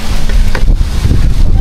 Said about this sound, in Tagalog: Whoops, mahangin guys, mahangin.